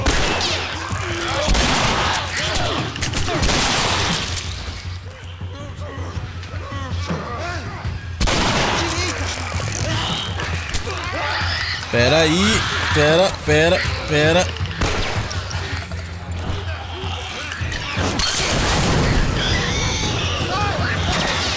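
Loud gunfire and heavy blasts burst out repeatedly in The Last of Us Remastered, with broad booming shots separated by quieter stretches. Excited players talk throughout.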